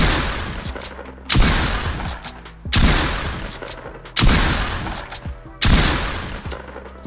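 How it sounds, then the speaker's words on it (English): A pump shotgun in the video game Fortnite fires five loud, booming shots at a steady pace about one and a half seconds apart, each blast fading into a short tail before the next. "I'm going to shoot as fast as I can with the pump shotgun."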